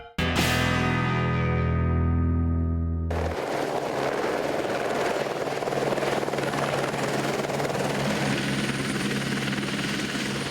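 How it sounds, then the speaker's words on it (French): A helicopter's rotor and engine roar loud and steady throughout, a deep thudding drone with broadband whine, after a brief opening burst of sharp, ringing harmonic tones. "Tu viens de descendre de l'hélicoptère."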